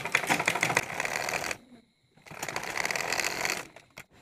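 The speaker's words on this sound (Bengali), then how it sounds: "এই যে এইভাবে আমাদের এই সেলাইটা দিতে হবে।" A sewing machine stitches pieces of fabric together in two rapid, clattering bursts, close and loud, separated by a short pause.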